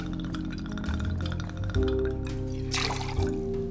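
Two ounces of Double Cross vodka poured into a cocktail, heard as a short liquid pour with light glass clinks and a rising filling tone, up close and without speech.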